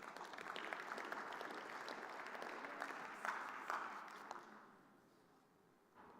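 An audience claps steadily, a full round of applause from a conference crowd at some distance, thinning out and fading toward the end.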